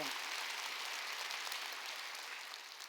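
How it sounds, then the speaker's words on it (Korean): Church congregation clapping during a Wednesday worship service, a dense, steady wash of applause from many hands that fills the hall and slowly fades toward the end. "깨달은 사람 박수 치라고."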